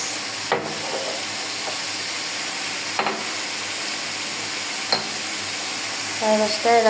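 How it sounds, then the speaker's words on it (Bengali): Ginger, garlic and cumin paste with a few cardamom pods fries steadily in a pan for a chicken curry, a constant sizzle broken by occasional stirring scrapes and clicks, with a brief faint voice near the end. "মশলাটা অনেকটা কষানো হয়ে গেছে।"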